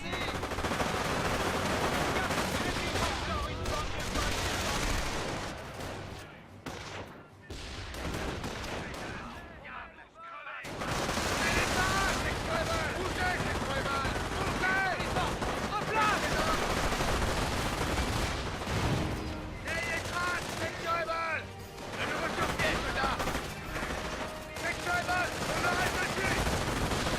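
Dense rifle and machine gun fire rattles almost continuously in a Company of Heroes battle, loud and close, with volleys overlapping and a brief lull near the middle before the firing resumes; shouted voices come through underneath.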